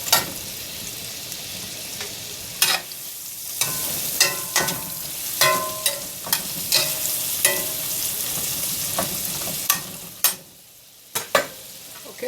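Cajun-seasoned steak tips sizzling and frying in a hot pan, with steady background hiss broken by repeated scraping stirs and clinks of a utensil, close and fairly loud, no voices.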